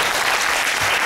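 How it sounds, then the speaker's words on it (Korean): A lecture audience at a university book forum breaks into a short burst of dense, steady applause, loud and close. "건강을 기원드리는 박수 한번 보내주시고"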